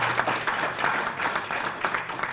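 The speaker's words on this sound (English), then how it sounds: "Could you give them a round of applause for all the help they give us?" A brief round of applause from a business audience at a Marketing Institute event, a dense patter of many hands clapping evenly for the whole stretch.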